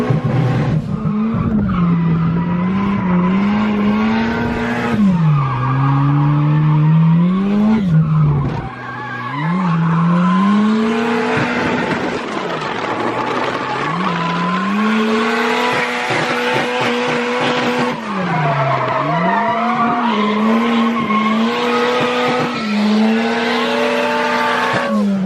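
A 1989 Trans Am drifts with loud, sustained tire squeals whose pitch swoops up and down over a roaring, revving engine, close and continuous through the whole run with only a brief dip midway.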